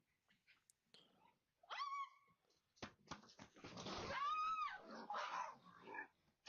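A dog inside a house, disturbed after a raccoon chased it and its owner, makes whimpering, whining yips, brief close cries rising and falling over several seconds amid rustling movement.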